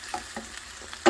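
Chanterelle mushrooms fry in a pan as wine is poured in, giving a brief close hiss and sizzle with a couple of soft stirring scrapes and a louder burst at the end.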